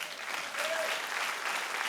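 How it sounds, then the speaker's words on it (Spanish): Steady applause from a church congregation during a Spanish-language sermon, a broad even clatter of many hands held for about two seconds at moderate distance, with no talk over it. "denle un aplauso a Dios"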